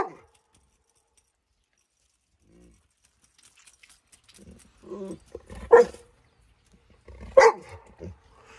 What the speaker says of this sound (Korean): 왜 계속 짖는 거야?